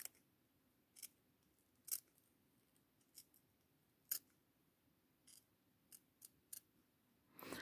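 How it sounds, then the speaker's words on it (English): Paper being cut with scissors at a crafting table, a series of short crisp snips spaced irregularly over a quiet background, with no talking. "so we're just gonna cut this here."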